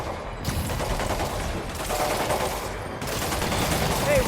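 Gunfire in Marvel's Spider-Man Remastered, sustained bursts of rapid shots from a rooftop firefight, loud and continuous with brief gaps, mixed with game noise.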